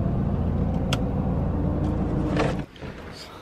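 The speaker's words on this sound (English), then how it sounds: "We're just currently cruising along in traffic" A car cruises along in traffic with a steady low engine rumble and road noise heard from inside, which drops away sharply near the end.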